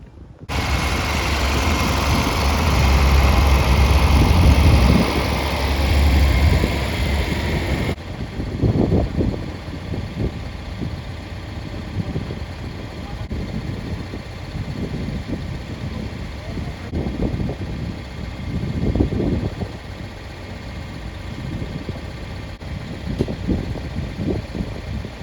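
A big farm tractor engine idles near a straw shed, a low steady rumble at first with wind buffeting the microphone, then continuing under intermittent talk.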